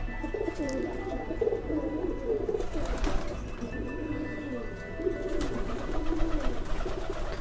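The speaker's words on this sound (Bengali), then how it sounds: "মোট এই তিরিশ তিরিশ ষাটটা কবুতর হচ্ছে আমার ব্রিডিংয়ে গিরিবাজ প্লাস রেসার মিলে" Racing and Giribaz pigeons cooing in a loft, repeated soft low coos from several birds overlapping steadily at moderate distance, with faint background noise.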